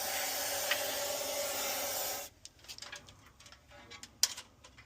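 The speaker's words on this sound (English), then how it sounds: "give it a good spray down" Fluid Film rust inhibitor sprays through an extension hose onto the underside of a 1962 Chevy Biscayne, a loud steady aerosol hiss for about two seconds, then stops, followed by faint ticking and clicking.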